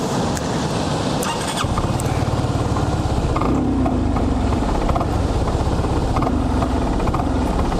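A SYM 300 Cruisym scooter engine revs hard in repeated bursts, the throttle cutting in and out as traction control stops a burnout attempt, loud and close.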